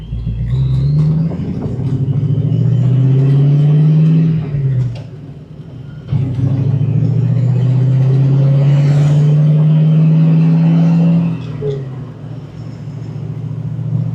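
A Foxbody Mustang fitted with a cam and a blower drives along, its engine droning loud and close, rising in pitch through two long pulls with a brief dip and shift between them.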